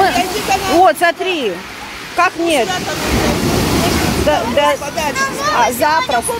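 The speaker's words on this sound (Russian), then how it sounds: "вам не кажется, что волна может усилиться и небезопасно здесь?" Black Sea surf surging onto a Crimean beach near Alushta during rough weather, a steady broadband wash of breaking waves heard close under frequent conversational speech from several people.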